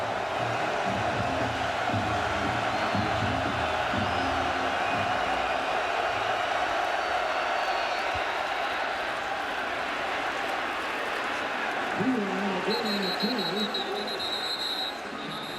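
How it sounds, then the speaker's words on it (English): Roaring stadium crowd at a college football game between Florida and Kentucky, a steady, loud, continuous wash of noise with some voices rising over it near the end. "It's just loud, loud crowd noise"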